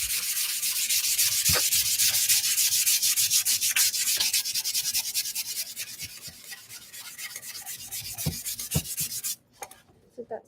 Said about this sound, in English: Before you sand, before you burn, you gotta sand just a little bit.